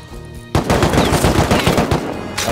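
AK rifle gunfire in the video game Rust: a loud, close burst of rapid automatic shots that starts abruptly and runs on for about two seconds, with no talking.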